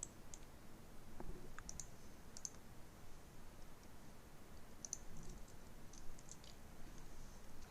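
Mouse clicks in architectural CAD drawing software while sheets are shift-clicked, heard as sparse sharp clicks scattered over a steady low hiss, alone with no talk.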